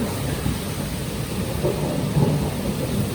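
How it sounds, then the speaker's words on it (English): Thunder rumbles through a thunderstorm with heavy, continuous rain, a deep steady roar that swells slightly near the end, with no voices heard. "Listen to the thunder!"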